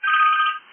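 A phone gives a short electronic ring, one loud, clear tonal burst that cuts off quickly.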